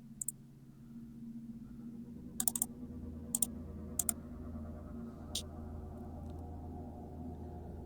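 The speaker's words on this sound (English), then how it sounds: "I am currently typing it in the chat" Sparse bursts of keyboard typing sound close by in a quiet room: a few quick clusters of crisp key clicks over a low background hum.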